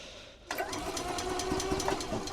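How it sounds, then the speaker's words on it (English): Gas golf cart engine being cranked over with the key, a quick rhythmic chugging that starts abruptly after a brief quiet moment and runs steadily at close range without catching. "we're about to crank her up, see what she does"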